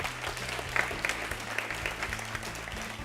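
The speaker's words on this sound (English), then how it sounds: "they deserve a round of applause" Audience applause at a school quiz show, a steady dense patter of many hands clapping at moderate level over a low hum, continuous for a few seconds.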